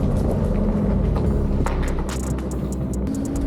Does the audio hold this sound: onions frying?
no